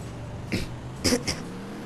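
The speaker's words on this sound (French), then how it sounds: "Excusez-moi, j'ai une mauvaise toux tout à coup." A man coughs in short bursts, two or three rough throaty hacks in quick succession, close and moderately loud over a quiet background hum.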